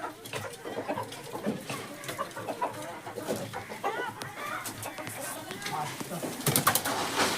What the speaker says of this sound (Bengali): এখানে আবার ডিম পাড়ছে দুটো মুরগিতে একসঙ্গে বসে।